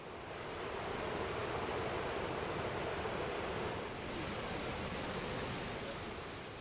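Goðafoss waterfall in Iceland pours down two cascades with a powerful, unbroken roar of rushing water, dense and loud throughout.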